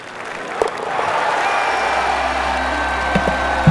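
A golf gallery at a par-4 13th hole applauds and cheers a birdie, a steady wash of clapping with a few whoops rising over it, fairly close and full.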